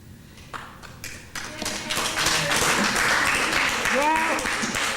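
Applause breaks out among an audience at a museum event: scattered claps build into steady clapping lasting several seconds, with talk running over it.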